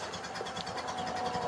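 A restored 1929 Ford Model A engine idles with a steady, even mechanical chugging at moderate loudness, unbroken by talk.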